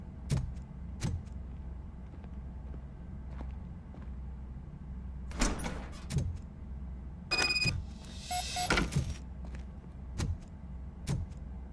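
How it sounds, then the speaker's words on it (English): In the video game RoboCop Rogue City, a door is worked open amid heavy mechanical footsteps, with a few rattling, metallic scrapes and a short whirring slide in the middle, fairly close and quiet. "Now let me get that door open for you."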